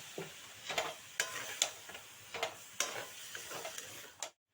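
Cabbage and soybeans are stirred in a pan, a quiet, steady rhythm of scraping spoon strokes with a soft sizzle underneath, roughly a dozen strokes before the sound cuts off.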